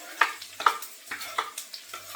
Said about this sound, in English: Okay, that's our oil. Let's get our onions straight in there.